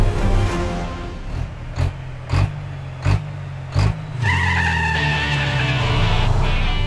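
Volvo Iron Knight truck, a high-powered heavy tractor unit, roaring under hard acceleration, a loud continuous engine drone with rising pitch and a few sharp gear-shift bursts, close and dominant with no talk.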